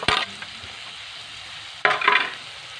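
Chopped vegetables including capsicum and green chillies sizzle in a hot pan for an omelette, with two brief bursts of stirring and scraping over a steady frying hiss.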